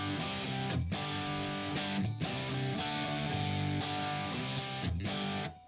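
Electric guitar through an amp's dirty channel with gain up and master down: distorted, sustained chords played continuously and fairly quietly, with periodic pick attacks and no speech over them.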